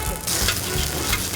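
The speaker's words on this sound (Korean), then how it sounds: "특히나 부침개는 무쇠 프라이팬에 만들어야 제맛이라는데" A Korean pancake sizzles and fries in an uncoated cast iron pan, giving a steady, close crackle of hot oil with brief louder surges and no talk.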